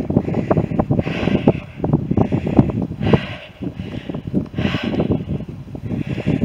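Wind on a coastal path at Sand Point buffets the microphone in a loud, steady rush, gusting in irregular surges with a rustling, flapping texture and no voices.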